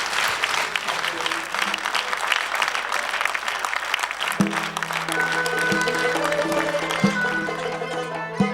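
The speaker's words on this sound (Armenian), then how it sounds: "Շատ լավ, ծափարում ենք։" Audience applause at a live Armenian concert: dense, steady clapping fills the room, and instrumental music begins underneath it about halfway through as the applause carries on.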